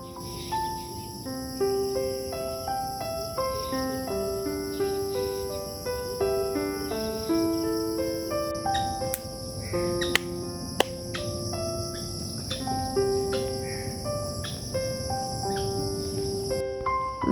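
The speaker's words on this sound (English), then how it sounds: "We can hear the birds chirping, the insects buzzing," Insects buzz and chirp steadily through a forest on a morning walk, a continuous high drone with scattered bird calls over soft ambient rustle.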